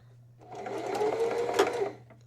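A home sewing machine back stitches on a fabric Kindle and book sleeve, a short close whirring run of about two seconds that rises and then stops, over a low steady hum.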